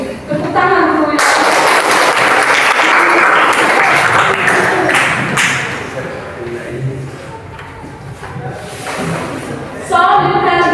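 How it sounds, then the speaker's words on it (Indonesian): A classroom group bursts into applause, a dense wash of clapping lasting several seconds and fading toward the end, with voices talking over it at the start and close. "Tepuk tangan dulu ya."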